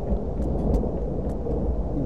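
Low, continuous thunder rumbling through a stormy scene in the video game Empath: A Path of Whispers, a steady loud roll with rain-like hiss and no talking.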